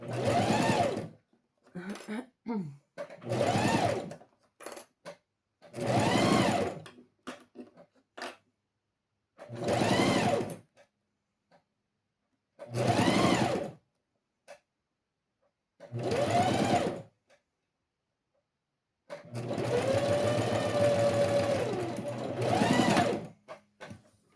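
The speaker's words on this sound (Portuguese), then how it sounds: "vamos fazer a primeira costura de segurança" A sewing machine runs a safety seam on a zippered pencil case in repeated bursts of a few seconds each, closing with a longer run, loud and close with quiet pauses between.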